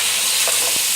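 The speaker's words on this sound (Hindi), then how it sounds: "दरमियानी आंच पे पकाएं पकोड़े" Potato pakoras frying over medium heat in oil, giving a steady, dense sizzle that stays loud and even throughout, with a faint soft stir or bump near the end and no voices.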